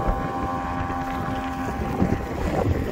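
A Solar-470 R jet-drive RIB, an HDPE and PVC boat loaded to about 700 kg, runs across deep, heavy waves. Its engine drones steadily under wind buffeting the microphone and water rushing past the hull, with no talk.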